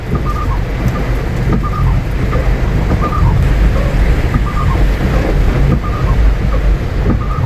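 Loud, dense heavy rain pouring steadily in Baguio City, heard from a taxi, with a deep rumbling roar underneath, no breaks throughout.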